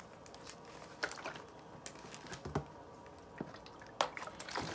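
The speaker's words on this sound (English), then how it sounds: "So then we add a little more water just to make sure." Water poured or squirted into seed germination bags for pepper seeds, giving soft scattered drips and squishy splashes at low level, with brief louder spatters around the middle and end.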